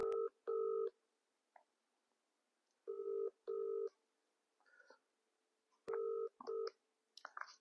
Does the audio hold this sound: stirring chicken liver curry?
no